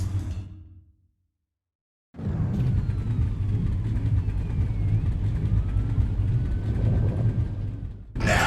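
Several car engines in the video game Gangstar 4 roar steadily together at a race start, a loud continuous rumble with a swooshing pass, broken by a short silence near the beginning.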